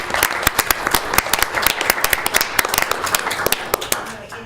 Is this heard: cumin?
no